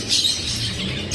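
African lovebirds in a pet store give off a dense, continuous high twittering and chirping, loud and close, with a faint low rumble of shop noise underneath.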